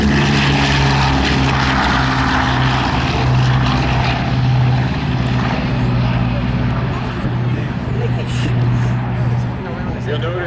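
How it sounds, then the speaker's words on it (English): Boeing propeller airplane taking off at a World War 2 weekend air show, its piston engines roaring loud and steady with a droning pulse throughout, while someone speaks over it. "At about 105 to 115, Fifi will lift off the ground just like she is now."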